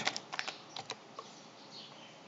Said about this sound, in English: Once you type this faster page load, hit enter in your keyboard.